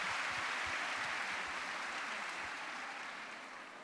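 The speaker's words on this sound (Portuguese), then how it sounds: "Aplausos" Studio audience applause on a Portuguese-language talk show, a dense, even wash of clapping that holds steady and then slowly fades toward the end, with no voices over it.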